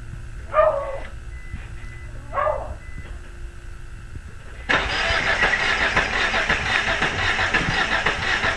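A repaired Eagle Summit engine, its valve cover off after a head gasket job, cranks and catches on a first start attempt, running roughly and loudly after a couple of dog barks heard earlier in the quiet.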